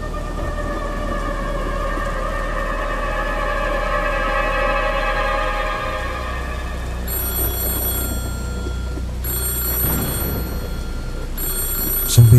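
A telephone rings steadily in a tonal, warbling ring that repeats through the whole stretch, loud and alone, with a second brighter ringing tone cutting in toward the end.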